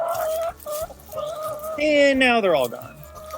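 Backyard chickens cluck and squawk nearby in short rising and falling calls while a person talks over them.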